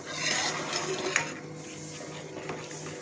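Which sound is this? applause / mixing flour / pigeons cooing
mixing flour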